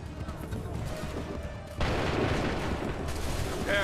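Musket volley fire in Assassin's Creed 3 at the battle of Lexington and Concord, a dense wash of crackling shots and booms that bursts out suddenly after a quieter stretch and holds steady, with shouted commands mixed in.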